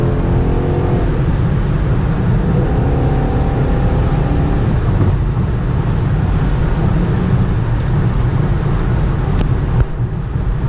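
A 2011 Ford Mustang GT with the 5.0 V8 under hard acceleration, heard from inside as a loud, continuous low engine roar mixed with heavy wind rush, with no one talking.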